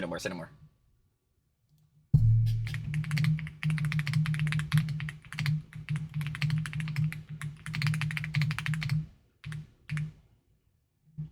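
Rapid clicking of keys on a computer keyboard runs steadily for several seconds, close up, after a short quiet start, with low hum beneath.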